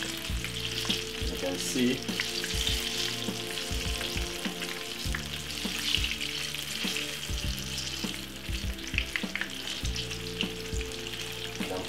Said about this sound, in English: I'm frying them on a medium size heat